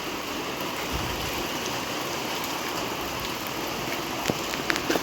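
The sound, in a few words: heavy rain falling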